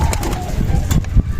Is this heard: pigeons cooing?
yes